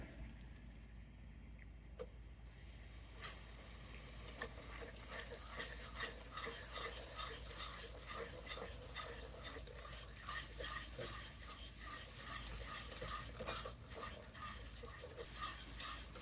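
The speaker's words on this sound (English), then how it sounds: "I'm going to put about half of it in and whisk it" Butter being whisked into caramel sauce in a pan, faint rapid scraping and tapping of the whisk against the metal over a low background sizzle, continuous and fairly quiet.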